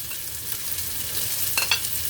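Tofu sizzles steadily in a hot pan for vegetarian fried rice, with a continuous close frying hiss and a few scraping strokes of stirring near the end.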